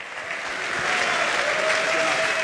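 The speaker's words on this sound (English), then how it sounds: "let's give a nice round of applause to Martin Frohmeyer, the Director of Motorsports Engineering" Applause from an audience at the 2018 Formula SAE Michigan awards ceremony, a dense steady clapping that swells slightly and holds strong throughout, with no talk over it.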